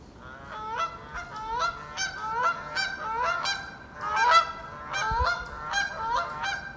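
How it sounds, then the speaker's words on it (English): A flock of geese honks repeatedly at Upper Goose Pond along the Appalachian Trail, overlapping calls in an irregular rhythm at moderate distance, with no talking. "You can hear the geese."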